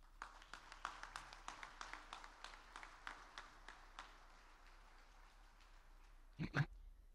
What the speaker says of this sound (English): So I'd like to give them a round of applause and thank our sponsors for their support.